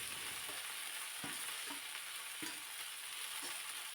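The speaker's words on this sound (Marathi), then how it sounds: "लसूण परतून घेतला आणि त्यानंतर मग चिरून घेतलेली गाजराची भाजी यामध्ये घालायची" Garlic and chopped carrot leaves fry in a pan with a steady, bright sizzle, broken by a few soft stirring scrapes, close and continuous with no voices.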